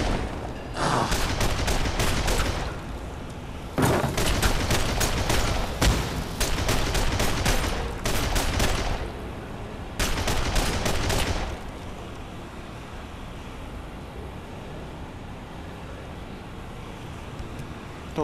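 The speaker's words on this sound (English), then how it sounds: "Don't tell me you're just gonna keep on shooting." Enemy gunfire in The Darkness 2: loud bursts of rapid automatic shots in several volleys separated by short pauses, then a quieter stretch of ambient rumble.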